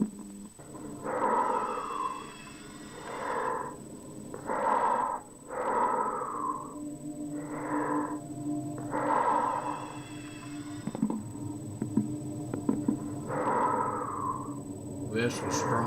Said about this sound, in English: We have some strong breathing.